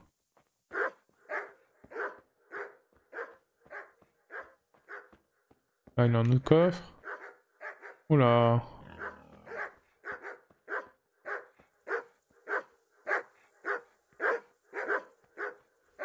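Dogs bark in a steady rhythmic series of short, mid-distance yelps in the medieval game Kingdom Come: Deliverance, pausing briefly while someone talks over them, then resuming.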